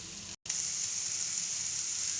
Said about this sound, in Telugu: చూడండి ఫ్రెండ్స్ అన్ని కూరగాయలు వేగుతున్నాయి కదా